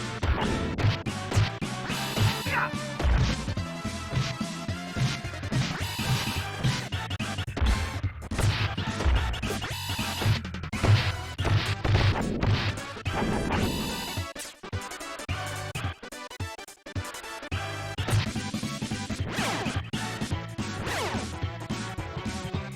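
Enemies hurled and smashing against the screen in the arcade beat-'em-up TMNT: Turtles in Time, a dense run of crashing, thwacking hits over continuous game music, loud and steady throughout.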